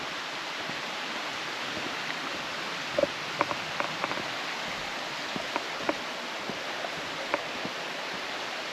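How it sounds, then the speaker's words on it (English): Steady rain falling in a forest, a constant hiss with scattered droplets pattering close by on a surface. "it has actually started raining before it was predicted."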